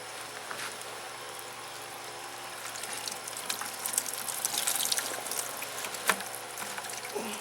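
Cloth soaking in a small bucket of water for a homemade oilcloth lean-to tent, giving faint trickling, dripping and sloshing sounds that swell briefly near the middle, with a sharp splash toward the end.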